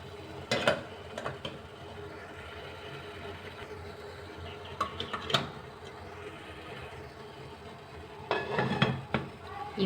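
A steaming plate of ragi kolukattai is set into a pot of boiling water, giving sharp metallic clinks and clatters in a few separate bursts over a quiet kitchen background.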